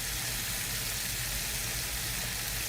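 Burgers fry in an iron skillet, giving a continuous dense sizzle and spatter that stays close and steady throughout, with no voices over it.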